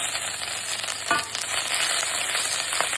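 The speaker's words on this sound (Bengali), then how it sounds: "ফোড়ন হিসাবে প্রথমে দেব জিরা, শুকনো লঙ্কা, গ্রেট করে রেখেছি আদাটা দিয়ে দেবো।" Cumin, dried chilli and grated ginger hit hot oil in a pan as a tempering for dal, crackling in a loud, continuous sizzle with a brief burst of stirring near the middle.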